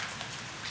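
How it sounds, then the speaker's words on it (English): Light outdoor rain patters in a steady, even wash of soft noise for a short moment, fairly quiet and close, with no voices. "It's not raining that hard though."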